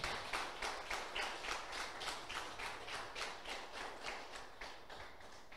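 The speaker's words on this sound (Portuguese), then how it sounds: "Dê a Jesus uma linda salva de palmas." A church congregation clapping for Jesus, faint and distant, with a steady rhythmic beat of unison claps repeating roughly three times per second throughout.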